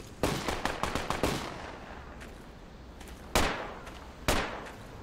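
Enemy gunfire in a tactical shooter video game: a quick burst of close, sharp shots, then scattered single reports with quiet gaps, two louder isolated shots standing out near the end.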